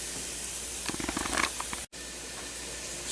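Sausage and rice go into a hot pot for Minorcan perlow and set off a steady, loud sizzle. The crackle thickens into a short burst of spitting, breaks off for an instant, then settles back into a constant hiss.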